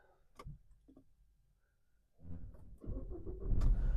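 A 2012 Nissan Qashqai 1.6 MPI petrol engine is heard: a few faint clicks and a quiet stretch, then the engine turns over and settles into a steady low idle that grows louder toward the end.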